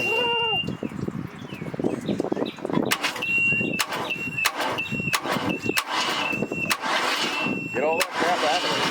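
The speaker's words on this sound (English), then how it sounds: "we got the engine to spin over" A Chaparral 2330 sport boat engine cranking over after oil squirted from a plug, heard as repeated sharp cranking bursts and clicks with voices talking throughout.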